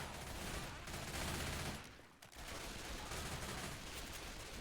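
Dense, continuous automatic gunfire from an esports match fills the mix, with a brief lull midway before the rapid shooting resumes at the same level.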